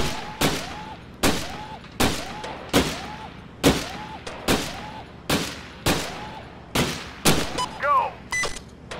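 Gunfire in the VR shooting game Gun Club VR: about ten sharp, evenly spaced single pistol shots, each followed by a brief ringing tail, loud and close, with a short cluster of shots near the end.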